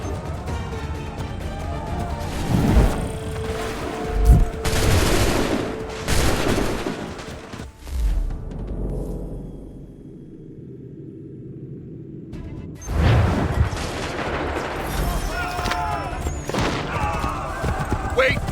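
Massed musket volleys in an Assassin's Creed III battle, with loud bursts of fire and booming rumble through the first half, a brief hush, then more crackling gunfire, with shouted commands heard over the fighting.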